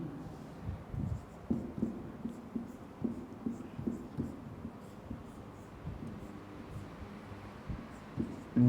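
A teacher writing letters by hand during a chemistry lesson, a run of soft scratchy strokes and taps close by, spaced in short bursts with quiet gaps, no talking.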